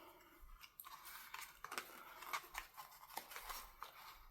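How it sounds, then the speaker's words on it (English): Scissors snip through lace while a Christmas gift tag is being trimmed, giving several close, soft crunchy cuts at an uneven pace with no talking. "Those scissors don't like to cut."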